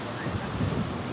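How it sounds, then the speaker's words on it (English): Strong wind on a beach in Da Nang, Vietnam buffets the microphone, producing a continuous low roaring rumble throughout with no clear speech. "it's crazy windy now"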